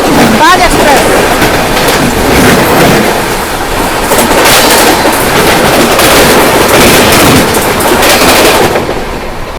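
The Taj Express (12299) rolls along on an evening run near Gwalior, a loud, continuous rumble with rail clatter and wind noise throughout, heard up close.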